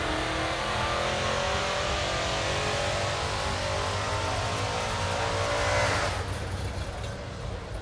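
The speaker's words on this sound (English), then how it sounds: "Someone's revving it, man." A car engine revs loudly among parked street machines at an outdoor car show, a sustained roaring rev that climbs and peaks near the end before easing off, heard from a short distance.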